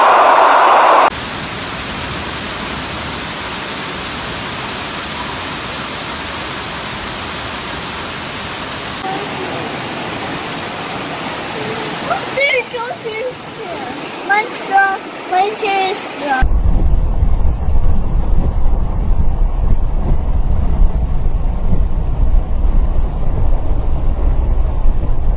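Flash floodwater in Pittsburgh, Pennsylvania rushes past a car with a man trapped on its roof, a loud continuous broadband roar of raging water that changes character partway through and swells heavier near the end.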